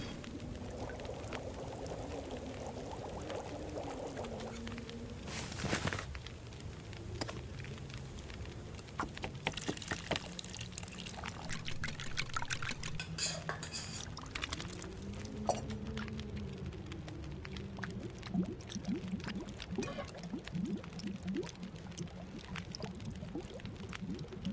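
Water poured into a pot and set to boil in The Long Dark survival game, with a steady pouring patter and occasional light clinks over a continuous background hum, no talking.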